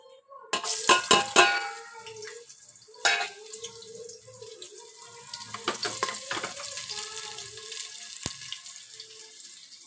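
Hot oil frying chopped onion for red lentil dal in a home kitchen, with a sharp burst of sizzling and clatter at the start, then a softer steady crackle with intermittent knocks and scrapes, close by.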